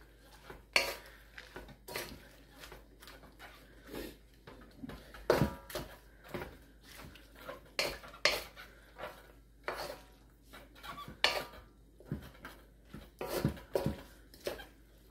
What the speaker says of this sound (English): Just try to mix everything together.